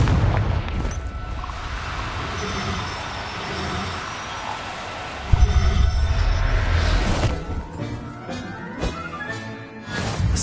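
A Confringo blasting spell in a video game sets off an explosion: a deep, rumbling roar with a sharp burst partway through, then settling debris and crackle, loud and with no talking.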